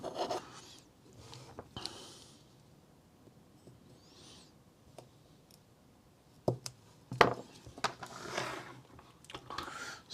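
A part of a 1/16 scale Artesania Latina Sopwith Camel model kit is cut by hand, giving quiet rasping and scraping strokes broken by a few sharp clicks and snips, close and soft against a hushed room.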